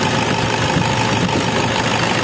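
A Toyota Innova diesel engine with a reported lack of power runs at a steady idle, a close, continuous rough rumble with no speech.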